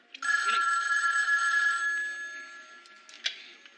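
An old-fashioned telephone bell rings in a TV comedy sketch, one loud, sustained jangling burst close by that cuts off and fades, followed by a faint click.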